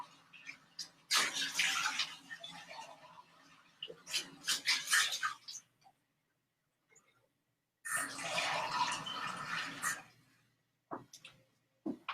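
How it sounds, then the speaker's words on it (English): A container is washed out and filled with water, with two bursts of running water from a tap, about three seconds each, separated by quiet gaps, plus a few brief clatters near the end. "So I'm gonna wash this out and fill it up with water."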